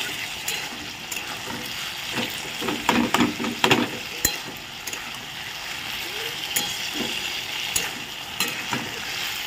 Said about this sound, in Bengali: আর এখানে দেখো এই যে পেঁপে আলুর তরকারি বসিয়ে দিয়েছি